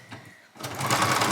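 A sewing machine stitching stretchy fabric starts from near quiet into a steady, fairly soft mechanical whir that continues to the end.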